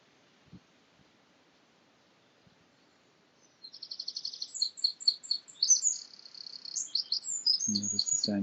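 Birds chirp outdoors in quick, repeated high tweets that start after a quiet stretch and keep going, fairly close and clear.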